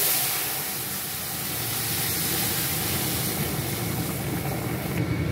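Moong dal hits hot oil tempered with chilli and bay leaf, giving a loud, steady, broadband sizzle and hiss that holds evenly throughout.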